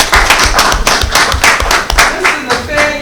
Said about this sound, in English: would you all give him some applause?